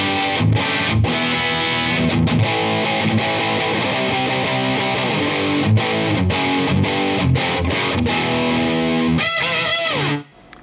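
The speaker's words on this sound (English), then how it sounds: "we've got that beautiful humbucker in the bridge, which actually has a lot more punch than I was expecting" Cheap metal electric guitar played through its bridge humbucker with heavy distortion, a dense, punchy chugging riff with brief chopped gaps, loud and close throughout, ending in a ringing sustained chord.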